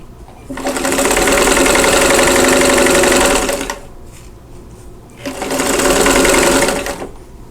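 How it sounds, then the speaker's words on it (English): A sewing machine stitches quilt block pieces together with a nested seam in two loud, close runs of roughly three seconds and one and a half seconds, separated by a brief pause. "now I'm going to sew these together, and I'm going to nest that seam"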